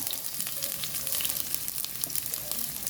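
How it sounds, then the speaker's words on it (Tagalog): Garlic cloves, left uncrushed with some skins still on, sauté in a pan with a dense, close crackling sizzle that holds steady throughout. "yung bawang hindi ko dinurog ang iba nga sinasama pabalat balat niyan ayan gisa-gisa lang maigi"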